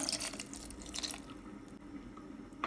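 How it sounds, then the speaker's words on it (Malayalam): Quiet splashes and trickles of water being poured into a vegetable kurma in a few short bursts, close by with a faint background hum. "ഇനി ഇതിലേക്ക് ഇത് അരയ്ക്കാൻ ആവശ്യമായ വെള്ളം ചേർത്ത് കൊടുക്കുക."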